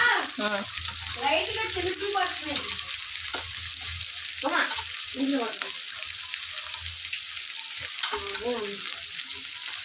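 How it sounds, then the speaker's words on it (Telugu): Potatoes fry in a pan with a steady, bright sizzling hiss that runs unbroken while a person talks intermittently over it. "ఆలు వేగుతుంది."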